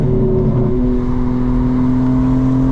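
A 2025 BMW M4 Competition xDrive with a ZF automatic downshifts from fourth to third, its engine droning loudly from inside the cabin, with a quick shift in pitch early on before it holds a steady, rising hum.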